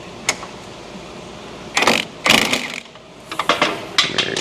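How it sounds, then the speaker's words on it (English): Wrench ratcheting on a bolt of an old truck's fender during a frame-off restoration, heard as a few short clicking bursts with brief pauses between them, close and moderately loud. "got a wrench on top of this bolt"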